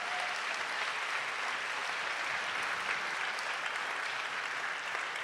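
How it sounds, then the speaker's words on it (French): An audience at a concluding event with musical performances applauds, a dense steady wash of clapping from many hands, sustained and even throughout, no talk over it. "Et je voudrais vraiment que vous les applaudissiez"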